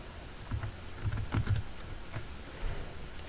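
Keys tapped on a computer keyboard while a workflow policy is written in management software, a few short bursts of clicks with pauses between, close and fairly quiet with no talking.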